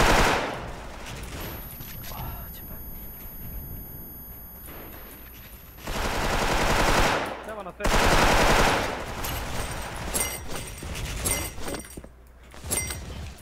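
Bursts of rapid automatic gunfire crackle through a game soundtrack, loud and repeated, with short pauses between volleys and a voice now and then.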